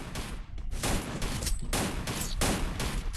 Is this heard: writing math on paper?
no